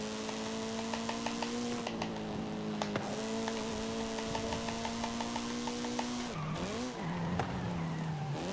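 A race car in Forza Horizon 5 on the Jungle Descent course runs at a steady engine pitch, then the tires squeal briefly near the end as it slides and the revs dip and recover.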